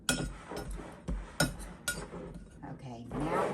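Metal utensil clinking against a bowl while flour, salt and baking powder are stirred together, a few sharp taps at an uneven pace, close by, with a voice speaking over parts of it.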